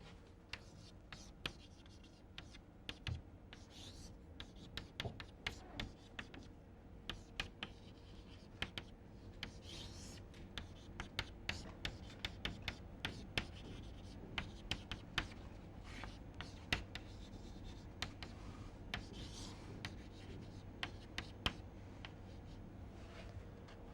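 A lecturer writes equations on a board during a fluid dynamics class on the Prandtl-Meyer function, producing a steady run of short, crisp taps and scratches close by, with no talking.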